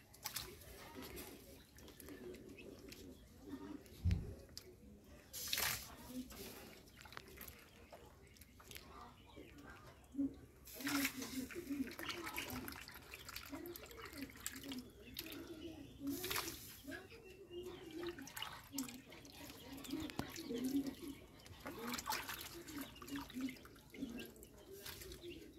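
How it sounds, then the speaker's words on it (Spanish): Sliced mango drops into a pot of boiling cinnamon water for a mango preserve, giving quiet splashes and bubbling in scattered bursts over a faint, steady background. "el agua de canela cayó hirviendo y ahorita le voy a agregar el mango acá"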